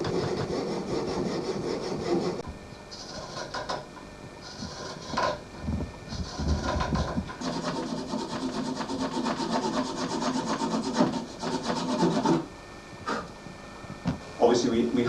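A saw works through the wooden back of a hand-carved spoon in bursts of rasping strokes, pausing between runs, with a person talking quietly in places.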